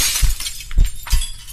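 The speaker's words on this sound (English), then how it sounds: "Suddenly, the sound of shattering glass echoes from downstairs." Glass shatters loudly in a short sound effect, with a sequence of sharp crashes and tinkling fragments over a second and a half, close and alone without talk.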